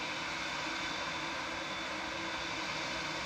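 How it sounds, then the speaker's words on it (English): A Boeing 787 Dreamliner airliner in the Prepar3D flight simulator, rolling down the runway on departure with a steady, loud broadband engine roar. "There goes SimLog on the departure down the runway."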